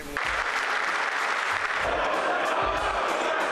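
Sustained applause fills a parliamentary chamber after a speech by Biden in Ukraine's Rada, a dense steady clatter of many hands with crowd murmur running through it.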